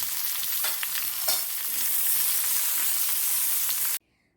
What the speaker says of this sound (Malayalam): ഉള്ളി അരിഞ്ഞ് വെച്ചിട്ടുണ്ട് അതിന് വേണ്ടി പിന്നെ ഇതൊന്ന് നന്നായിട്ടൊന്ന് വറുത്തെടുക്കാം